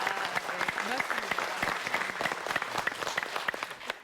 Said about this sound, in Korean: 저희가 다시 한번 감사의 박수 아이고. 보내드리겠습니다